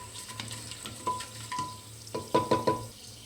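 Spices splutter and crackle in hot oil in a pan for a millet fenugreek bath, with light sizzling broken by clusters of sharp pops that grow louder toward the end.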